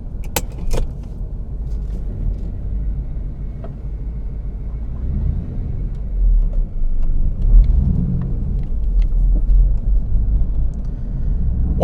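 A 1999 Pontiac Firebird Trans Am WS6 rolls slowly around a parking lot, a steady low engine rumble from inside the car with a few light clicks and rattles near the start.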